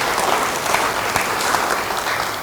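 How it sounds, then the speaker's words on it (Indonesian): A church congregation applauds during a sermon, steady full-room clapping that holds at an even level throughout, with faint voices under it. "Beri tepuk tangan bagi dia"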